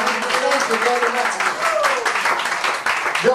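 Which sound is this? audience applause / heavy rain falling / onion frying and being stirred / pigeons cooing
audience applause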